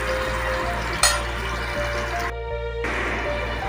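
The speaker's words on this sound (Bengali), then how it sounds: "একটু ফ্রাই হোক।" Frying in a pan while making shahi paneer, with a steady sizzle over a low hum, a brief clatter near the middle and a short drop in the sizzle later on.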